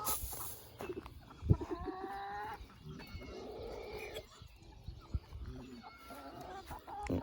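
Chickens and a hen cluck and call in a farmyard at feeding time, with irregular clucks and squawks near and far over a busy outdoor background.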